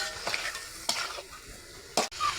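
Chicken and spices sizzle as they fry in a pot on a clay stove, with a few distinct scraping stir strokes over the steady close frying hiss and no voices.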